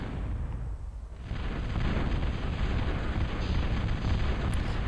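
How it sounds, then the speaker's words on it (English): Bombing run in a strategy video game: after a brief lull, a dense, continuous roar of rumbling explosions swells and holds loud to the end. "Here comes his bombing run."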